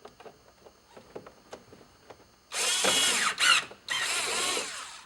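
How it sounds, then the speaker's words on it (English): A power drill drives T20 Torx screws into a VW GTI MK5 door panel, with two loud close whirring bursts separated by a brief pause, after quieter clicks and handling taps. "Put our T20 Torx screws back in."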